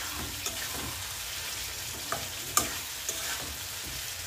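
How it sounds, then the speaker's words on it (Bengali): Bottle gourd sautéing in a pan, with a steady sizzle and occasional sharp clinks and scrapes of a spoon stirring it up close, no voices. "লাউ কষানো শেষ"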